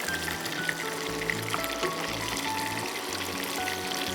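Chicken fries in a lemon butter sauce with a busy, steady sizzle and crackle, punctuated by low clunks of the pan and utensil, close and loud.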